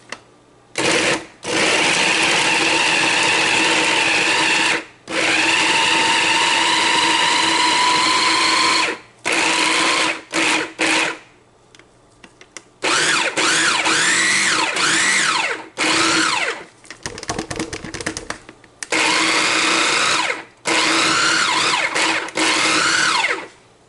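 Food processor chopping ginger for turmeric paste, running in several loud whirring bursts separated by brief pauses, the motor pitch rising and falling as the pieces break down; no talking.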